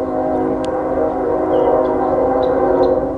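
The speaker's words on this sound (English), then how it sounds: "Hear the train." A freight train's horn blares loudly and steadily for about three seconds, a sustained tonal blast over the rumble of the passing train.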